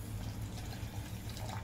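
Water pours into a pan of sugar to make syrup for gulab jamun, a soft, steady low gush that runs on without a break and without voices.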